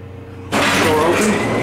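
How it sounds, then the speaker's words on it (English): An Otis traction freight elevator door with a modernized operator rolls open abruptly, a sudden loud broadband whoosh and rumble that starts after a quiet hum and sustains to the end. "Door open."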